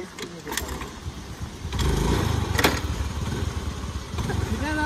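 A motorcycle propped on its double stand being started, with clicks and clatter before the engine catches and runs in a rough, uneven rumble close by, amid outdoor background noise.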